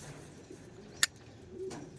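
A faint racing pigeon, a grizzle, coos quietly against low background noise during race training, with one sharp click near the middle.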